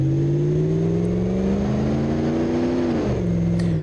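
Car engine at full throttle in the BeamNG.Drive driving game, a loud sustained drone whose pitch climbs slowly and then dips sharply near the end as the revs fall.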